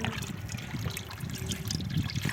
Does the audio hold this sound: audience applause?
no